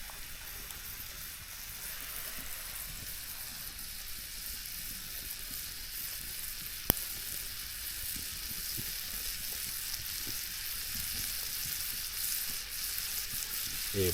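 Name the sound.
steak sizzling in a pan outdoors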